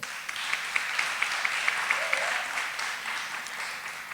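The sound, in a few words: audience clapping hands for high school learners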